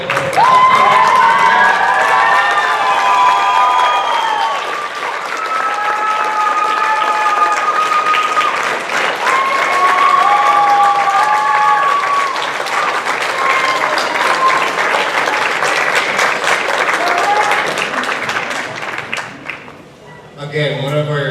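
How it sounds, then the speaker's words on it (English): A school district audience stands for a long, loud ovation after a student show at a city council meeting, dense clapping mixed with cheers, whoops and children's shouts, holding strong for about eighteen seconds before thinning out abruptly at the end. "give them the loudest round of applause again for their show"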